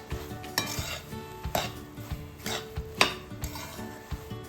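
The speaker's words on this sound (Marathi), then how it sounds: "आणि आता मिक्स करूया." Soya chunks bhaji being mixed with finely chopped coriander in a metal pan, a steady series of close spoon scrapes and clinks against the pot with a faint sizzle underneath.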